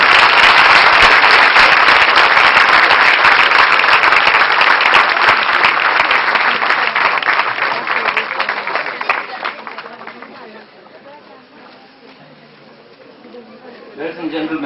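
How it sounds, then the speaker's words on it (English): An audience at a formal school function gives students loud, sustained applause that gradually thins and fades out, leaving a quieter room with some murmuring before a voice resumes at the end. "give them a loud applause."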